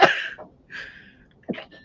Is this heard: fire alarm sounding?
no